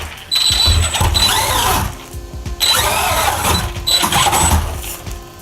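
A Pre-Jet Granite BLX RC car's electric motor whining in bursts as it climbs an indoor hill: three surges of rising, revving motor and gear whine, each roughly a second or two long, loud and close, separated by brief pauses.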